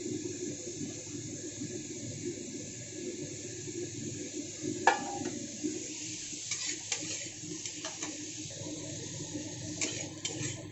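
Vegetables frying gently in a pan over a low gas flame for a simple pulao, a soft, steady sizzle and hiss throughout with a few faint scraping ticks near the middle, close and quiet.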